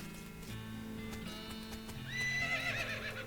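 Horses whinny and hooves clip-clop in the West of Loathing video game, a steady hoof rhythm giving way to a loud, rising neigh near the end, with a soft music bed underneath.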